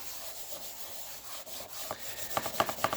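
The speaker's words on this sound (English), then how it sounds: "with a kind of wash of willow charcoal. And I'll smudge that and rub it in." Willow charcoal smudged and rubbed into paper, a soft dry scratchy rubbing that turns into quicker, sharper strokes toward the end, close and fairly quiet.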